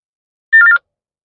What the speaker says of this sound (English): we're going to see what it looks like when you get a text message in